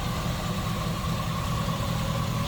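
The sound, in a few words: Chevrolet Camaro 327 engine idling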